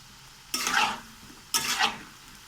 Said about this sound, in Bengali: কড়াইয়ের তেলটা মিডিয়াম আঁচে রেখে আমি সব কটি চিপস ছেড়ে দিচ্ছি, দিয়ে আমি ভেজে নেব ভালো করে